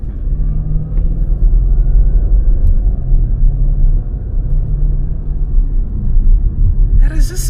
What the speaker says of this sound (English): okay, you can always hear that rumble,